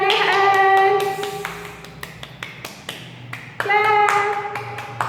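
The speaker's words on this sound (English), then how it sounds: "If you enjoyed the rhyme, clap your hands." Children in a kindergarten class clap their hands after a rhyme, several bursts of sharp claps, with bright sung or chiming tones between them.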